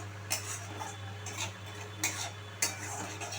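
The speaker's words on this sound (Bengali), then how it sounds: "দিয়ে আবারও 3-4 মিনিট আমি ভালোভাবে মিশিয়ে নেব।" Capsicum and spices stirred in a pan while cooking potato dopiyaza, with a spatula scraping in repeated strokes roughly every half second over a steady low hum and faint sizzle.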